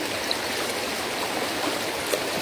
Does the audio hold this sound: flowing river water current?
yes